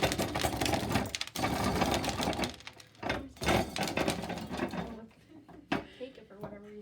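A hand-cranked corn sheller strips kernels from an ear of corn, giving a dense rattling, clattering grind with woody cracks and pauses between bursts as the crank turns, close and loud, ending in a few sharp knocks.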